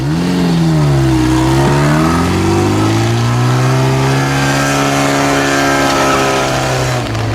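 Lada Niva engine accelerating off-road in second low gear, its loud close roar rising and dipping before climbing steadily through long pulls. The sound is sustained with no speech.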